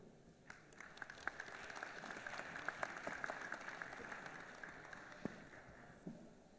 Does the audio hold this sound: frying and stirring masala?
no